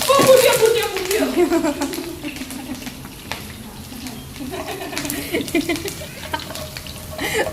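Curry leaves hitting hot oil for a tempering while making Ahmedabadi khaman, a burst of crackling sizzle that settles into steady frying with stirring, under a woman's chatter.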